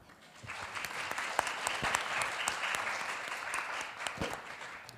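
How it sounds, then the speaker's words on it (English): An audience at a panel discussion forum claps steadily to welcome a panelist, dense sustained applause swelling and holding throughout. "Let's give her a very big round of applause."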